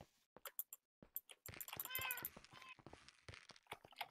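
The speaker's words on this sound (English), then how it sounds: "Where's this cat that keeps meowing?" Repeated cat meows inside a video game set in a Wild West city, short and fairly close, scattered over game footsteps and clicks, with a person talking over parts of it.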